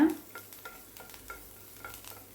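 Light stirring in a pan with soft scraping taps over a faint frying sizzle, a few gentle strokes spread across a short stretch.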